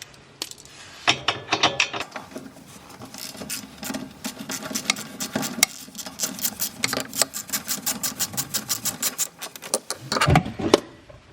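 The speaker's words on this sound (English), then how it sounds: "Now we're going to remove this 12mm bolt." A ratchet clicks rapidly while removing a 12mm bolt from the brake on a 2016 Subaru WRX during a big brake kit install, with bursts of close, crisp ratcheting and brief pauses between runs.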